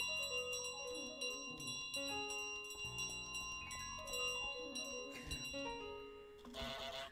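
Bell ringing in Untitled Goose Game, heard as bright sustained chimes with long tones over a busy layered game soundtrack, steady and fairly loud for about seven seconds, with a denser jangle near the end.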